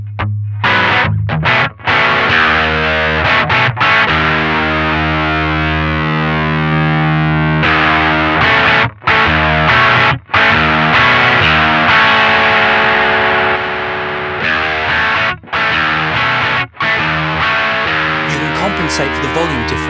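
An electric guitar plays through a Gnawer distortion pedal, with loud, heavily clipped sustained chords and riffs broken by short pauses and note changes, close and continuous.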